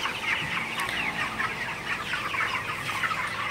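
Broiler chickens in a poultry shed cluck busily while being chased about, a dense, continuous chatter of many birds close by with no talking.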